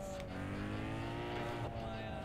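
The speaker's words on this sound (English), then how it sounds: "Why does the 240SX sound like its engine is a handful of angry mosquitoes?" A Nissan 240SX races in the video game Need for Speed Underground 2, a thin, high, buzzy engine tone holding steady at full throttle, faint and continuous with no talk.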